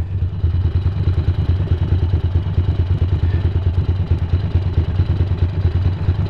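A Ducati motorcycle with its gearbox stuck in fifth gear, unable to downshift, runs with a steady low rumbling engine note and rapid rhythmic clatter throughout, fairly close and without voices.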